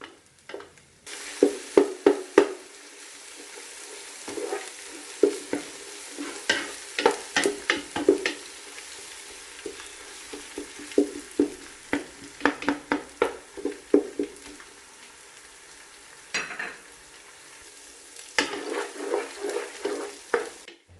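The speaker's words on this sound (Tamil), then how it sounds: "இஞ்சி பூண்டு விழுது அந்த நெய்யிலேயே நல்லா வதங்கணுங்க" Ginger garlic paste sautéing in ghee for a 1 kg chicken biryani, a quiet sizzle under repeated sharp scrapes and knocks of a ladle stirring the pot, close and irregular.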